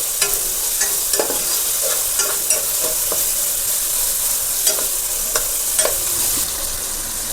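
Capsicum stir-fries in a pan for garlic egg fried rice, giving a steady close sizzle with repeated scraping and stirring clicks from a spatula throughout.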